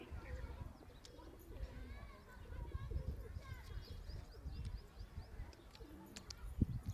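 Pigeons coo softly while feeding, with a few chirps from other birds over a low rumbling background and faint voices nearby.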